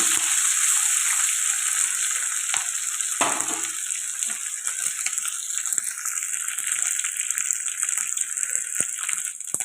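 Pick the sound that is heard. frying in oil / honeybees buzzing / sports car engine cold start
frying in oil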